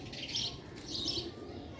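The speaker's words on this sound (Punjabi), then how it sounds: "ਸਿਆਲਕੋਟੀ ਬਟੇਰੇ ਕਬੂਤਰ" Sialkoti pigeons kept for sale make a couple of soft, brief calls over a steady low background rumble, close and fairly quiet, with no voices.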